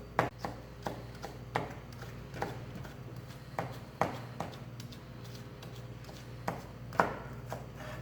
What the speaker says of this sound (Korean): 슬라이스해서 사이즈를 잘라주면 훨씬 수월해요